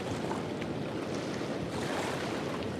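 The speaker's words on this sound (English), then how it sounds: "It makes my mind calm hearing the water." Water at Lockport, Manitoba splashes and washes in a steady, gentle wash, with broadband outdoor noise and a touch of wind. No voices are heard.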